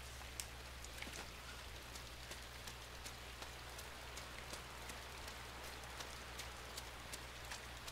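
Steady rain falls in the side-scrolling game Inside, an even, dense patter with scattered louder drops and a low constant rumble beneath, with no talking.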